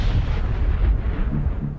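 An aircraft destroyed by a fuel-fed fire explodes in a deep, heavy, rumbling blast that booms continuously and loudly with low thuds throughout, up close and with no voices.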